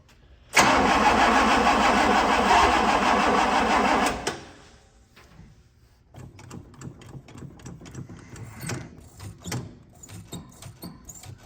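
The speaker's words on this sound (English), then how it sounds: "We're gonna crank it over a little bit more and see if she fires." The engine of a 1965 Pontiac Catalina cranks steadily and loudly for several seconds, then cuts out, followed by scattered clicks and metallic rattling nearby.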